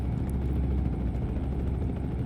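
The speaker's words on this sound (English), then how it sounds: "There's a helicopter up in the sky." A helicopter flies overhead in the American Truck Simulator video game, set in Louisiana, giving a steady, continuous low rotor and engine drone that fills the whole stretch without a break.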